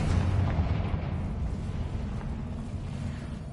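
A Confringo blasting spell in Hogwarts Legacy detonates as a deep, muffled explosion, then a rumbling low roar fades slowly over a few seconds.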